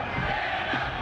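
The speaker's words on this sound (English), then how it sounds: "Not the crowd chanting Dan O behind you" A large crowd at an NFL draft event for the Rams' pick shouts and chants in a loud, dense roar that carries steadily from behind the people nearby.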